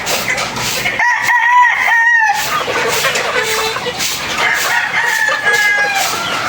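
Gray Carichua gamefowl roosters, about three months old, crow loudly at close range while hens cluck, with several overlapping crows and clucks in a farmyard.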